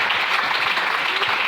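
A church congregation applauding to acclaim the Lord, dense steady clapping from many hands filling the room throughout the short burst.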